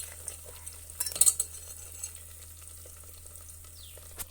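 Pumpkin halwa cooking in ghee gets stirred in a pan on the stove, with a quiet sizzle running under a few soft scraping strokes and occasional light clinks of the spoon.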